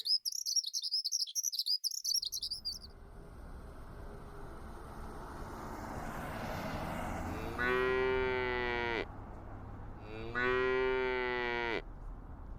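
Two long, loud, close moos from cattle in a town setting, each lasting about a second and a half with a pause between, follow bright bird chirping at the start over a low outdoor hum.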